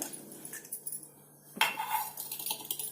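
Chicken pieces being mixed with yogurt and spices in a bowl for restaurant-style chicken angara, giving soft scraping and clinking against the bowl with one sharper knock midway, close and with no talk.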